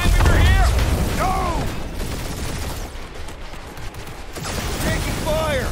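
Rapid bursts of gunfire and mechanical clatter from a space battle in the video game Marvel's Guardians of the Galaxy, loud and continuous, with dense bursts at the start and end and chirping sweeps over the top.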